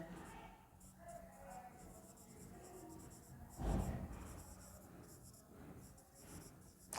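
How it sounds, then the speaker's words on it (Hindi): A teacher writes a solution on a board during a class on the circumference of a circle, producing soft, continuous scratchy strokes with a brief louder tap midway, quiet and close. "यहाँ पे लिखते हैं सॉल्यूशन में क्या लिखेंगे"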